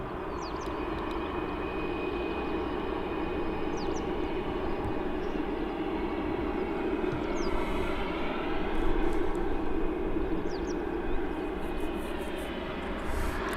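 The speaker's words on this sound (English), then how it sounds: "Polar Air Cargo just arriving here at East Mids." A Polar Air Cargo freighter arriving at East Midlands Airport, a loud sustained jet engine roar that rises and swells slightly, steady and continuous throughout.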